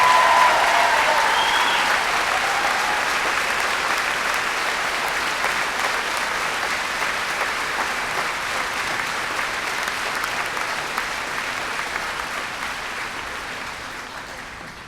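A crowd applauds veterans at a 2022 high school commencement ceremony, sustained steady clapping for about fifteen seconds that slowly fades, with no talk over it.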